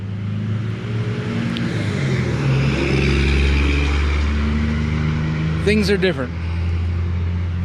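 A Troy-Bilt tiller cultivator's small engine runs steadily at wide-open throttle, a loud continuous low drone with someone speaking briefly over it near the end.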